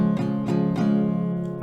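An acoustic guitar strummed with four even down strokes, each bright chord attack ringing into the next, close and loud, the last chord sustaining and fading.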